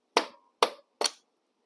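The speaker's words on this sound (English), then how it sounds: "a little rubber hammer. Don't be beating the heck out of it with something huge. And tap it out" A small rubber hammer taps a shaft out during a motorcycle chain kit install, giving three crisp, evenly spaced knocks, close and distinct against silence.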